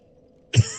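A single sharp, close cough bursts out after a short quiet stretch and trails off into a brief rasp.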